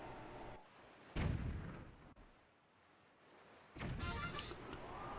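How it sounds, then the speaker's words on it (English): Cannon shots fired at ships in the video game Zelda Wind Waker, heard as two loud booming blasts with rumbling tails, spaced a few seconds apart, with a brief sharp crack between them. "So 2 more shots with 2 more ships."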